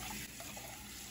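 Warm tap water runs from a faucet to rinse out an espresso machine brew unit, a quiet continuous splashing stream with a brief change in flow partway through, no voices.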